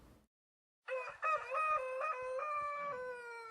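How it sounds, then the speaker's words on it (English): After a brief silence, a rooster in the video game TerraFirmaCraft crows once, loud and drawn out, with a clean, slightly synthetic ring. "Oh my god, I hate roosters."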